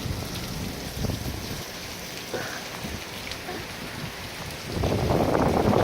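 Heavy hurricane rain from Hurricane Matthew pours down steadily outdoors, a dense hiss that swells louder near the end.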